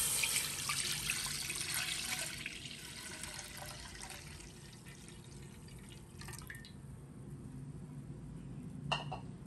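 Coconut milk poured into a heated pan for crab and malunggay stew, a quiet continuous trickling pour fading gradually, followed by a faint hiss and a small clink near the end, with no voices.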